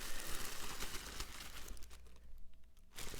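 Paper crinkles and rustles in close, soft handling during an ASMR Christmas special, a dense crackly texture that thins out near the end with no talking.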